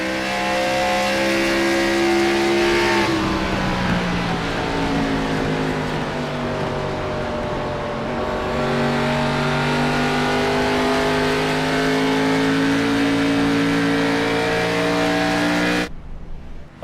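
Race cars at full throttle during an IROC race at Darlington speedway, a loud, steady, howling engine roar that rises and falls in pitch as the cars pass, continuing without pause and without talk.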